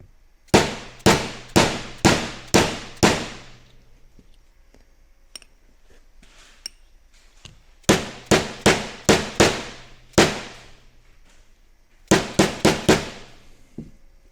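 A Speedi Sleeve hammered onto an NP205 transfer case yoke on a 1980 Silverado, sharp ringing metal blows in three bursts of about five quick strikes each, close and loud, with quiet gaps between.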